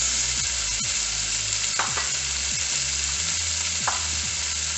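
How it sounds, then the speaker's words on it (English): Peppers, onions and tomatoes sauté in a hot pan with a steady, loud sizzle throughout, punctuated by a few scrapes and stirs of a utensil against the pan. "Now we're going to saute this down just some before I add in my wine."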